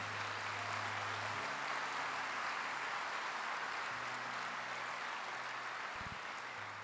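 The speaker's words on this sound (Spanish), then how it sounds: "dele ese aplauso a Jesús" A church congregation applauds during a sermon, a quiet, even wash of many hands clapping that runs on without pause, with a low steady hum beneath it.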